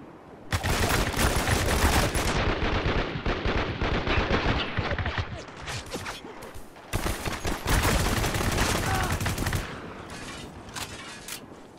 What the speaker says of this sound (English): All my pistol shots weren't enough.